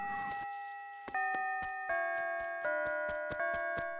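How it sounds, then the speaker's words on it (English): A town tune from Animal Crossing City Folk chimes as a clean synthetic bell melody, one sustained tone after another stepping through the tune with soft ticking clicks between notes, clear and alone. "The town tune definitely seems louder since we changed it."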